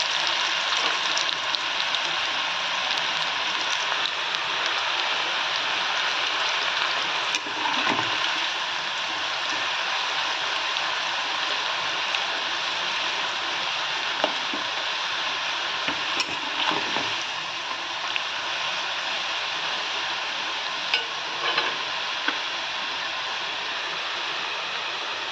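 Jackfruit chips deep-frying in hot oil, giving a steady, dense bubbling sizzle with occasional stirring clinks throughout, close and continuous with no talk.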